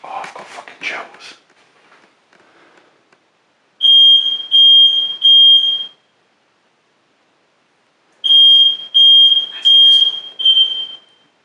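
Repeated loud electronic beeps in two bursts, three to four beeps each, from an alarm-like device in a Welsh farmhouse, with brief talk and rustling before the first burst.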